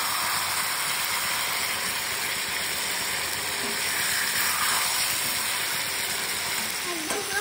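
Chicken and potatoes being sautéed with chili powder in a pan give off a steady, close sizzling hiss that runs unbroken throughout.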